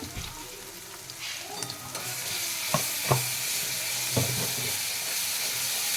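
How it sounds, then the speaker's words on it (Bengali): Soybean chaap fries in hot oil in a kadai with a steady close sizzle, while a spatula stirs and scrapes gently with a few distinct knocks against the pan. "আস্তে আস্তে নাড়িয়ে নেব যাতে ভেঙে না যায়।"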